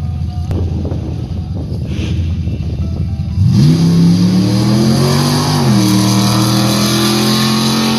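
A Chevrolet Camaro drag car at a Hilo drag strip launches after a windy stretch, its engine note climbing loud and strong as it accelerates down the track, with a brief dip before the pitch rises again.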